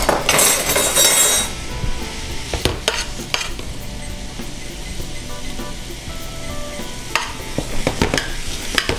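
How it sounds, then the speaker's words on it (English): Bacon and diced onions sizzle in a little oil, a strong burst of hiss as they hit the pan, then a steady close crackle with sharp clinks of a utensil against the pan. "I'm gonna add the bacon and start to cook those together."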